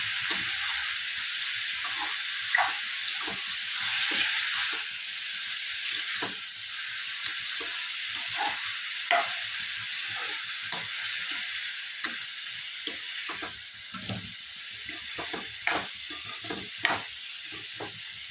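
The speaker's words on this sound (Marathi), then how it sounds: "टमाटा विरघळण्यासाठी लवकर आणि थोडीशी हळद छान मिक्स करून घ्यायचं" Tomatoes with salt and turmeric sizzle in a pan for tomato chutney, a constant frying hiss broken by repeated scraping knocks of a spoon stirring, close and fairly quiet.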